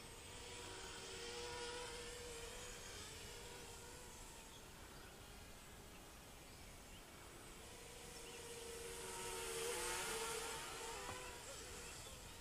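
An Emax Nighthawk 200 Pro racing drone flying at low throttle, its steady high-pitched motor whine rising and falling slightly, fairly faint and alone throughout.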